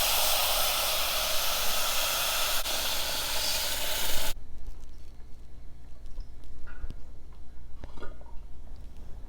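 Water poured into roasted semolina in a hot pan makes a loud, broad steam hiss that cuts off abruptly after about four seconds, leaving a quieter bubbling simmer with faint clinks.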